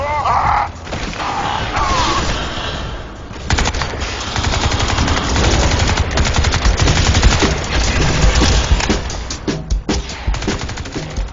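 Gunfire in the video game Crysis 2: dense, loud bursts of rapid automatic shots and heavy impacts, continuous and near, with brief shouted voices near the start.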